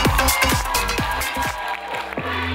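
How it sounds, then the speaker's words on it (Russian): Applause from a KVN comedy show audience, broad steady clapping that fills the hall while a heavy, thumping beat with low repeated hits runs underneath it. "ваши аплодисменты!"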